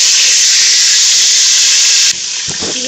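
Curry leaves hit hot oil for a fish curry, giving a loud, close, continuous sizzling hiss that cuts off abruptly near the end and leaves a quieter background.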